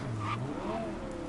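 A car engine revs in Cyberpunk 2077, a steady mid-level drone with a rising then falling pitch sweep, heard alone over a constant background.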